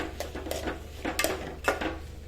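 A spatula scraping and clinking against a pan while pulao ingredients fry, a series of irregular metallic scrapes over a steady low sizzle, close and fairly loud.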